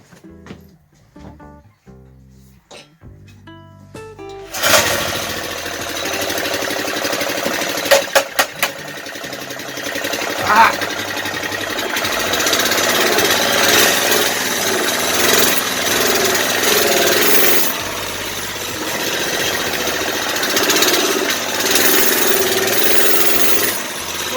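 Small mini bike engine on a budget Baja build, cold, sputters to life after a few loud pulls, then settles into a steady buzzing run that stays up close and fairly loud.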